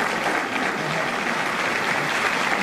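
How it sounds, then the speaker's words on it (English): Steady, dense applause fills a hall after a speech at the US Conference of Mayors, a loud continuous wash of many hands clapping with no pauses. "let's give a round of applause for Frank Luntz"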